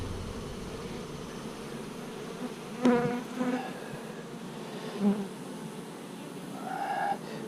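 Honeybees on a hive frame, many of them nurse bees, hum in a dense, continuous drone close by, with a few louder buzzes passing near the microphone.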